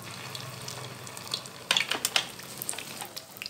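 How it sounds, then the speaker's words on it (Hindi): Egg-dipped potato kababs frying in a pan over medium heat: a low background sizzle, then a burst of sharp crackles and spatters midway that gradually settles. "अब हम इसे चूल्हे पर डालेंगे, अब हम इसे फ्राई कर लेंगे।"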